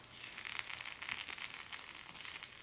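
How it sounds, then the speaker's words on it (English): Spaghetti for spaghetti all'assassina fries in a pan with lots of oil, giving a steady, soft hiss and fine sizzle that carries on unbroken throughout. "it is kind of frying nicely"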